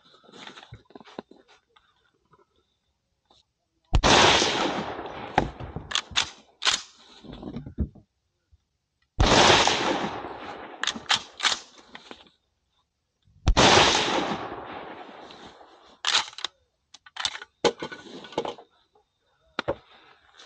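A Ruger Mini-14 rifle is fired in a grouping test at 100 meters, with three bursts of several sharp, loud shots in fairly quick succession and short quiet gaps between groups.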